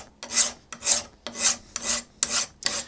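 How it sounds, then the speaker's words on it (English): A metal file rasping rust off a vise in six steady, evenly spaced strokes, close and fairly loud, each a bright scraping push followed by a short pause. "I'm going to make sure I'm keeping my file flat all the time."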